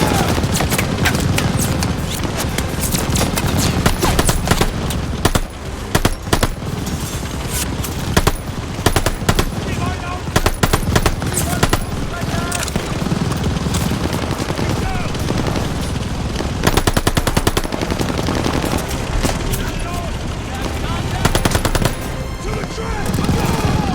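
Enemy machine-gun emplacements fire in a World War II battle in the game Call of Duty: Vanguard, with loud, continuous rapid bursts, overlapping gunshots and occasional booms that go on without a break.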